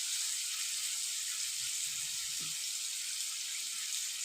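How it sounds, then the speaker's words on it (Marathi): Masoor lentils are rinsed under a running tap, making a steady, even hiss of flowing water with no break. "आपण जी डाळ घेतलेली आहे ना मसूरची ती व्यवस्थित धुवून घ्यायची आहे"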